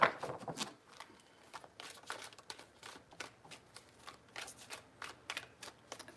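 Tarot cards are shuffled in soft, rapid riffling bursts close by, with faint crisp flutters repeating over a quiet background.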